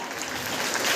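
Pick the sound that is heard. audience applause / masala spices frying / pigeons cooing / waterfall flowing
audience applause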